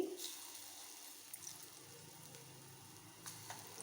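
Mung dal guntha ponganalu frying in a paddu pan give a steady, soft, close sizzle that runs through the whole clip, with faint crackles and a few brief clinks, and nobody talks.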